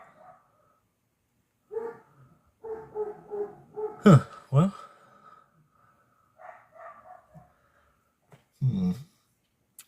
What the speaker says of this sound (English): I wish them dang dogs would shut up